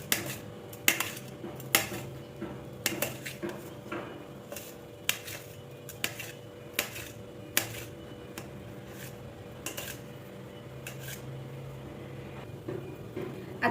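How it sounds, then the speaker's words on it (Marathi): Potatoes being finely chopped with a knife for sabudana khichdi, a string of sharp, irregular taps against a board, close but quiet over a faint steady background hum. "त्यानंतर आता हे बटाटे ना चिरून घेणार आहे एकदम बारीक."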